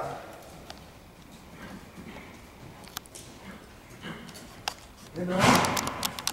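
A horse's hooves thud and clop in a riding lesson as the rider works on a volte, scattered soft beats under an instructor's brief talk, swelling into a louder flurry of hoof and tack noise near the end.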